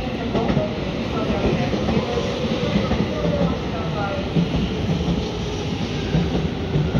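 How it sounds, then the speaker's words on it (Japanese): A JR 313 series train rolls into Kanayama station with a steady, loud rumble and wheel clatter throughout, under a platform announcement voice. "止まってご注意ください。列車到着です。"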